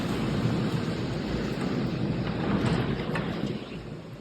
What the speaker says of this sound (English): An hour or so before my Ashtanga class, there was a crazy thunderstorm here.